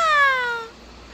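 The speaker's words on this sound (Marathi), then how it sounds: "बिल्ली बोले म्याऊ" A cat gives a single clear, close meow, rising and then falling as it fades out.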